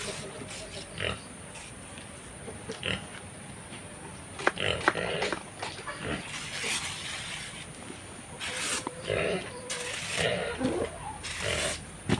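Pigs in their pen on a farm in the Philippines give scattered grunts and snorts, mixed with movement noises and background sounds, heard at moderate loudness with no talk.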